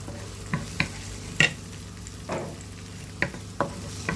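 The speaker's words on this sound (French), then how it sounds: "On le fait revenir, l'ail et l'oignon, au moins pendant 2 minutes." Onion and garlic frying in a pan while being stirred, with soft scrapes and clicks of a utensil breaking through a low, steady sizzle, close and moderately quiet with no voices.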